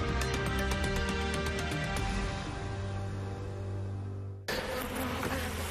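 Honeybees buzz in a dense, continuous drone around beehives, close and fairly loud, with a sudden shift to a brighter swarm hum near the end.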